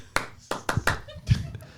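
A few people clapping on a TV show, four or five sharp close claps in an uneven burst, with a voice talking alongside.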